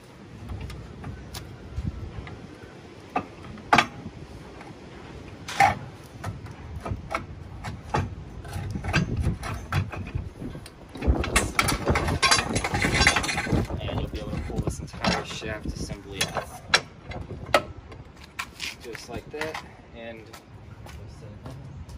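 Polaris Ranger UTV differential rotated over after unbolting, with metallic clunks, scrapes and knocks in a garage, handling noise rising in the middle.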